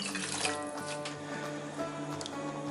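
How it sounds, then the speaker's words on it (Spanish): Hot water poured into a pot of Mexican red rice with browned onion, a continuous splashing, bubbling pour with some sizzle, heard close and without talking. "Aquí tengo el agua ya caliente, se la vamos a agregar también ahí."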